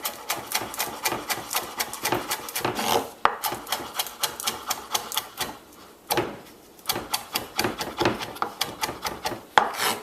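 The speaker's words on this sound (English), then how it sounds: "all we're doing pretty much is giving it a fine chop" A knife finely chopping shadow benny (culantro) on a board, fast rhythmic taps in quick runs with short pauses between bursts, close and crisp.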